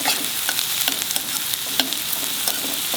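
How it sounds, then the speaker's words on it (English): Onions sizzle steadily in a pan over a medium flame, with scattered clicks and scrapes as they are stirred, a continuous close frying hiss without speech. "Fry the onions till they become semi-brown color"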